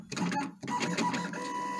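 A vinyl cutting machine carries out a short cut test, giving close, quick mechanical whirs and stepping motor buzzes in brief bursts, like a small printer at work.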